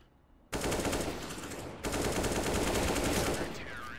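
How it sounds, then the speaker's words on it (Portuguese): Rapid, continuous automatic gunfire in CS:GO erupts suddenly and loudly, a dense rattling burst with a brief pause before firing resumes. "BRN tá acertando uns tiros estilo Monesi, velho."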